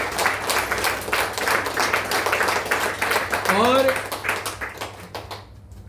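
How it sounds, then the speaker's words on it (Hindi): A hall audience at a religious katha discourse applauds the family of Shivshankar Maharaj with a sustained burst of many hands clapping. A voice rises over the clapping before it fades out at the end. "मैं चाहता हूं एक जोरदार तालियां शिवशंकर महाराज जी के परिवार के लिए होनी चाहिए।"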